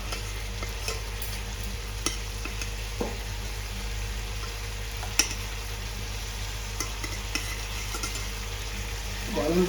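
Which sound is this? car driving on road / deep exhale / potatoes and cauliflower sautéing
potatoes and cauliflower sautéing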